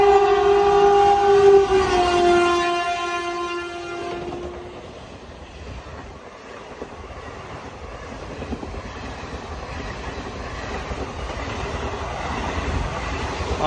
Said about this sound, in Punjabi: ਆ ਜਿਹੜੀ ਟ੍ਰੇਨ ਆ ਨਾ ਇਹ ਜਾ ਰਹੀ ਆ ਪਠਾਨਕੋਟ ਤੋਂ ਦਿੱਲੀ